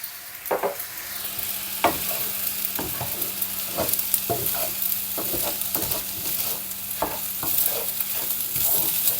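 Kimchi fried rice being stirred in a sizzling pan, a steady frying hiss underneath repeated scraping strokes of the utensil at an irregular rhythm, close and clear with no talking.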